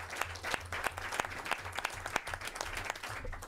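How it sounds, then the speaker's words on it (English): An audience at a New York officials' event on the Amazon HQ announcement breaks into steady applause, a dense spread of claps that keeps an even level from start to finish. "Let's give them a round of applause."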